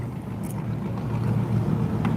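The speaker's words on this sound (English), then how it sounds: "Some of these boats just sound amazing. They got some big old engines on them." Big boat engines rumble on Lake Michigan, a continuous low throaty drone under wind noise, steady and moderately loud throughout.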